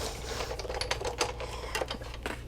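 An electronic die cutting machine working through cardstock, giving a low steady motor drone with quick clicking and tapping bursts, close and continuous.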